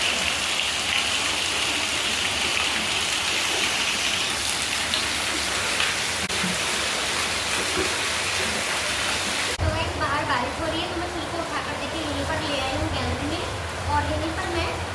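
Heavy rain pours down steadily in a dense, even hiss of drops striking the ground and running water, continuous and close, with a shift in texture partway through.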